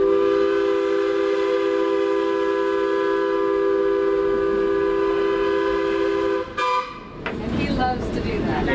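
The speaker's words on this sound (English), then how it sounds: "And then we get to blow the whistle and run" A vintage Portland heritage streetcar trolley blows a loud, sustained steady whistle tone for about six seconds, then it cuts off and gives way to rumbling noise and a voice.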